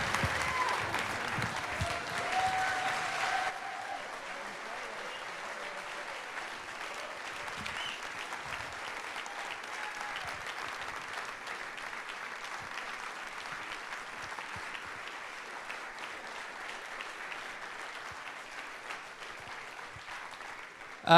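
A sustained round of applause from a seated audience at a 1 Million Cups Fargo startup gathering, dense and even clapping that carries on steadily for a long stretch, louder at the start.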